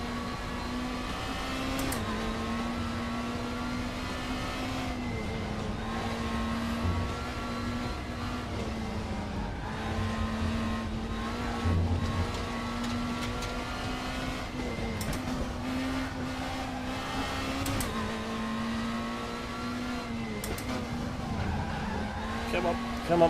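Super Touring race car lapping the Nürburgring in the RaceRoom racing game, its steady engine drone holding one pitch with brief gear-change dips, continuous and fairly loud, with a voice talking over it at times.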